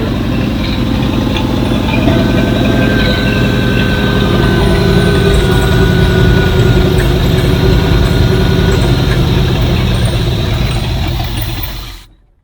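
A freshly repaired engine runs at a loud, steady idle close by, its throbbing rumble unbroken until it cuts off abruptly at the end, with no talk over it.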